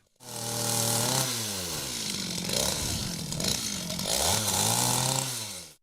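A petrol chainsaw cuts down walnut trees outdoors, its engine snarling loud and close at a steady high pitch with revving dips and rises, running continuously for several seconds.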